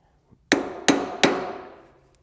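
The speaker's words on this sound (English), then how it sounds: "take a block of wood, tap the cap into place, or mallet" A mallet taps a hub dust cap into place on an etrailer idler hub for 3,500-lb trailer axles: three sharp, close metallic knocks spaced about a third of a second apart, each ringing briefly, with no talking.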